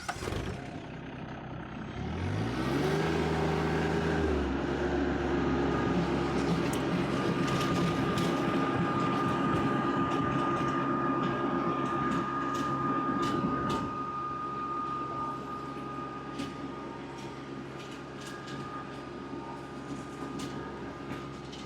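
A tractor with a box blade hauls gravel, its diesel engine rumbling steadily and close, rising in load early and then settling into a lower, fading drone.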